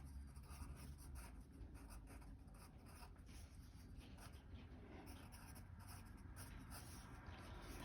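An HB hard graphite pencil scratches lightly across paper in soft, continuous strokes, faint and close, with no talking.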